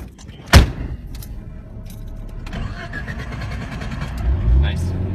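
A manual stick-shift car starts: a sharp click, a brief starter crank, then the engine catches and settles into a steady, close idle with a faint rev near the end.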